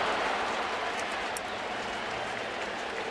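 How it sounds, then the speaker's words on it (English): A Busch Stadium baseball crowd during the Cubs at Cardinals game, a steady roar of cheering and clapping that fills the whole stretch at an even loudness. "now you hear the crowd as they post the Washington"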